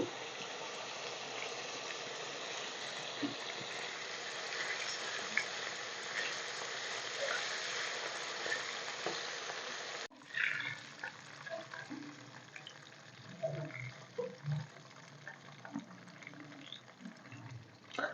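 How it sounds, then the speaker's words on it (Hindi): Fish frying in hot oil gives a steady, soft sizzle and crackle with a brief break partway through, then more uneven spattering pops. "मछली को हमने 2 दफ़ा फ्राई कर लिया है"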